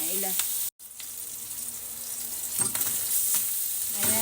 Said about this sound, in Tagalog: Ilagay ko na tong ating daing na bangus na prito